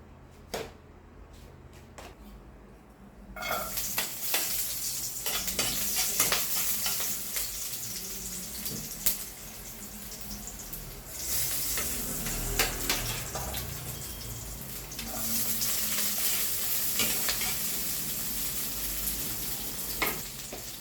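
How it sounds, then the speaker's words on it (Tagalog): Sautéing in used fish-frying oil: after a quiet start with a few clinks, a loud steady sizzle and crackle takes over, with occasional stirring scrapes and utensil knocks throughout. "Ito, magigisa na tayo."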